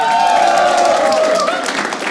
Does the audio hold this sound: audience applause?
yes